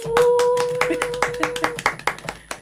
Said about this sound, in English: Please, a round of applause, ladies.